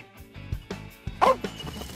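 A firefighters' search dog gives a few short barks during a rescue training exercise in the Oise, close and punchy, with one louder bark in the middle.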